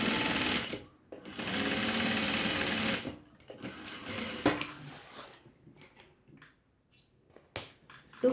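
A sewing machine stitches a fabric tote bag in two long continuous runs of fast, close mechanical whirring, then gives short stop-start bursts and small clicks as the fabric is adjusted, with no talking.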